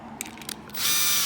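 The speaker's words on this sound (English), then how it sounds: "drilling it out a little bit" Drill bit cutting a hole in brass: a few faint scraping ticks, then the drill spins up into a loud, steady, high-pitched whirring grind, close and alone.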